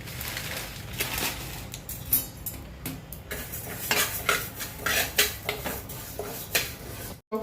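Fennel and fenugreek seeds dry-roasting in a pan for pickle, with repeated scraping and clattering of a spoon stirring against the metal over a faint sizzle, ending in a brief silence.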